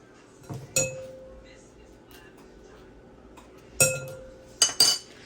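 A spoon scrapes baked potato flesh out of its skin into a bowl, giving a few sharp clinks and knocks spaced apart against a quiet kitchen background.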